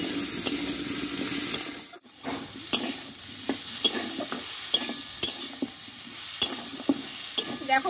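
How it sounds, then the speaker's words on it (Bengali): Tomato and potato sauté in a salted pan for a Bengali yardlong bean dish, with a continuous sizzle broken by repeated scraping stirs and spatula knocks, close up and with no talking. "এবার টমেটোটা একটু আলুর সঙ্গে ভালোভাবে কষিয়ে নেব।"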